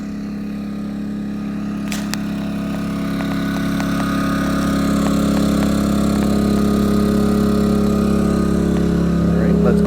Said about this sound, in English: But this is what we got running on the generator now.